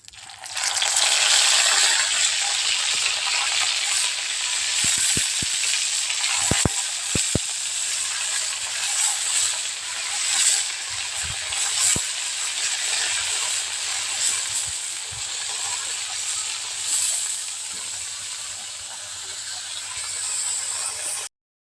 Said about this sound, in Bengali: এখন বড়াগুলো দিয়ে দিব একটা করে